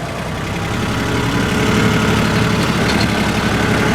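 A logging tractor engine idles and drives with a steady, heavy, low rumble throughout, close and continuous with no talk.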